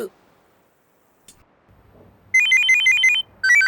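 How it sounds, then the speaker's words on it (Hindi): A telephone ringtone chirps in two bursts of repeated electronic trills, loud and close, broken by a short pause, after a quiet stretch with faint low hum. "ए फोन आया रे।"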